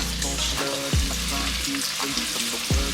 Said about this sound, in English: I'm adding my chopped onions inside my oil.